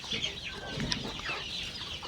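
Native village chickens and roosters at a poultry yard, with soft clucks and short calls rising over a steady background of many birds, fairly close.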